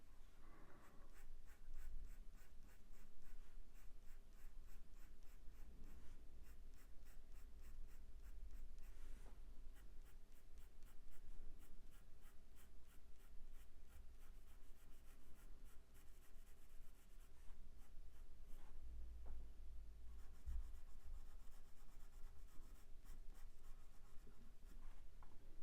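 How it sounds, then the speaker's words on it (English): A pencil shading evenly across paper during a cat drawing, a soft, steady scratching and rubbing that runs continuously and closely with no talk. "I'm just getting an even coverage of this pencil."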